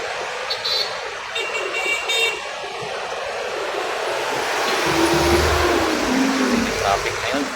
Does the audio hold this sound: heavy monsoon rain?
no